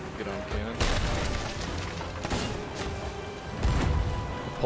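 Ship cannons fire in the pirate video game Sea of Thieves, three heavy booms spaced a second or so apart over steady sea and wind noise, with voices talking in between.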